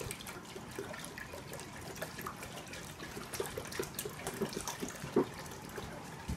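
Milk pours into a pot in a steady trickling stream, faint and close, with a few small clinks and splashes, while making ricotta cheese.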